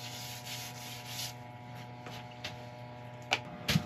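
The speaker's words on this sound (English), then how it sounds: "Now I'll rub it back and then I'll put another coat on." Finish is rubbed back on a brownheart wood turning, a soft, steady sanding rub close by with faint ticking and a couple of light knocks near the end.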